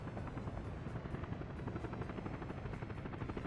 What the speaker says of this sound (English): I think we're gonna get a helicopter drop on this one.